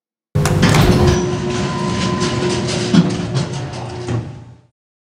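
A heavy freight elevator door slides open with a long rumbling, rattling scrape lasting several seconds, loud and close, then stops abruptly.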